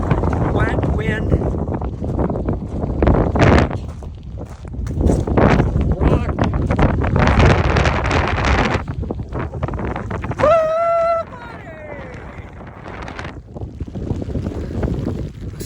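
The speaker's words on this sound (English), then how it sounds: "Cold, wet wind." Cold, wet wind gusts hard against the microphone in the Bighorn Mountains' Cloud Peak Wilderness, loud and buffeting, with a voice speaking over it and a brief whistle-like tone partway through.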